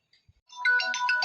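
A mobile phone ringtone starts after a brief quiet moment, a bright electronic melody playing loud and close with repeating tonal notes.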